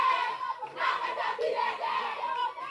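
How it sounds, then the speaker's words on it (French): A school audience cheers and applauds for Lycée Tobongisa at a quiz-style competition, a dense wash of shouting voices and clapping, loud and continuous with a brief dip midway. "On applaudit le lycée Tobongisa."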